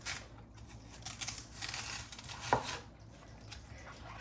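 A knife roughly trims the white rind from a watermelon for a Chinese summer salad, giving soft scraping, slicing strokes with one sharper snap of the blade near the middle, close up and without talk.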